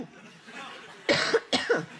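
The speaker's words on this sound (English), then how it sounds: "She coughed so much, it felt like she was going to start coughing insects." A woman coughs twice in sharp, loud bursts in the middle of a political speech, after a stretch of quiet room noise.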